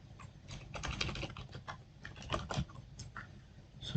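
Rapid typing on a computer keyboard as a name is entered, a dense run of close, light key clicks with uneven rhythm and no talk.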